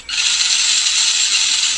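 A small electric motor and gearbox in a WPL C34 RC truck whine steadily on throttle, a continuous high-pitched mechanical buzz that starts abruptly and holds at an even, fairly loud level throughout.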